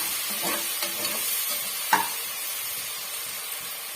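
Onions and green chillies sautéing in a pan for a white chickpea biryani, a continuous soft sizzle with a few stirring scrapes and one sharper clink, close by, no voices.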